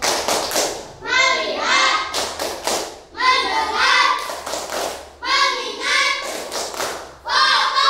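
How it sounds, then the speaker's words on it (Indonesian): A classroom group chants in unison and claps out the 'tepuk fokus' rhythm, with bursts of sharp handclaps between the spoken words. Several clusters of claps sound close and loud, mixed with children's and adults' voices. "Sekarang kita tepuk fokus."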